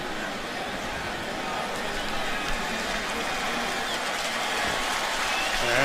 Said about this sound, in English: And Jason Campbell hearing the applause from the crowd.